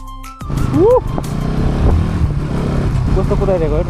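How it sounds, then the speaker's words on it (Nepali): A truck speeds past on a road bend near a parked motorbike with hazard lights on, its engine roaring loud and steady throughout, with a brief rising and falling tonal sweep early on and a voice talking over the traffic noise. "कस्तो कुदाइरहेको है ट्रक"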